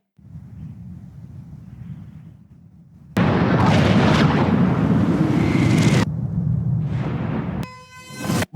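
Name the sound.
huge explosion with fireball in a film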